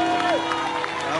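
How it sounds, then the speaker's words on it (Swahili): A large stadium crowd at a gospel praise night claps and cheers steadily for Jesus, a dense, continuous roar of applause with a sustained voice-like tone riding above it. "Mpe Yesu makofi na vigelegele sana."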